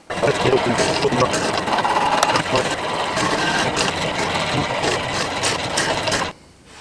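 An electric drill whirs steadily for about six seconds, boring holes in the base of a homemade cycling turbo trainer, then cuts off abruptly into near silence.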